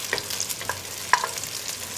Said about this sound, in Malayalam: മുട്ട ഒന്ന് സ്ക്രാമ്പിൾ ചെയ്തെടുക്കുക.